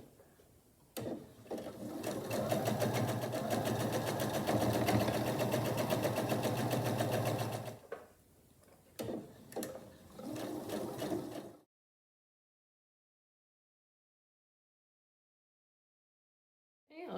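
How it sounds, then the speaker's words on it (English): Home sewing machine stitching a scant quarter-inch seam on a quilt block, running steadily for about seven seconds, then short stop-start bursts before silence. "I'll be sewing a scant 1/4 inch seam allowance right along here"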